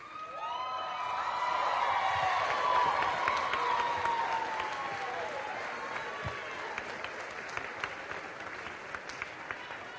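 A high school graduation crowd claps and cheers for the graduating class, with whistles and whoops soaring over a broad wash of applause that swells early and then holds at a steady level.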